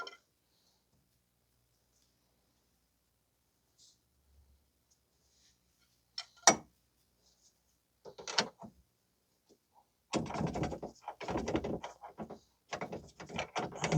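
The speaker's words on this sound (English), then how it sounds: "I'm just trying to turn the bolt just to get it on the threads" A steel bolt is worked onto the threads of a front lower control arm on a 2006 Mazda 3 2.3. After near silence come a few isolated sharp clicks, then a close, busy stretch of metallic rattling and clattering as the part is wiggled and turned.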